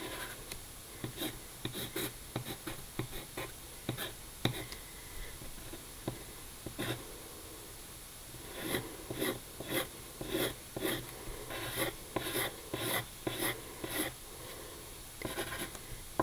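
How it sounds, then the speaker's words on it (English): A pencil draws on paper in quick scratchy strokes, arriving in short clustered bursts with brief pauses, close and quiet against a hushed indoor background. "And then I will draw Miss Cooper"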